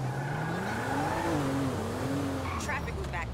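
Car driving in GTA 5, a steady engine hum rising and falling in pitch as it accelerates, with a short burst of sharper noise near the end.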